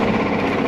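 A Mercury two-stroke V6 outboard boat engine, freshly repaired after a leak, runs steadily at close range with a dense, rough, continuous drone and no pauses or talk.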